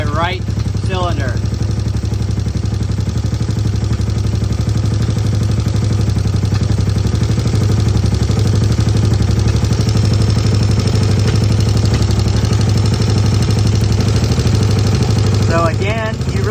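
A 1974 Honda CB360 motorcycle engine idles close by with a steady, even clattering throb that runs throughout, while someone talks over it.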